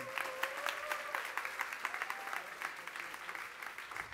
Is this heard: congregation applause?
yes